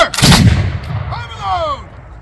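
A loud, sharp musket volley fired by reenactors at a Revolutionary War reenactment, the blast echoing out and fading, with faint voices after.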